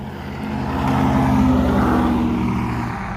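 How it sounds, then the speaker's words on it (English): A heavy engine roars past close by, swelling in loudness over a few seconds and then slowly receding, a continuous low rumble. "that was a loud truck"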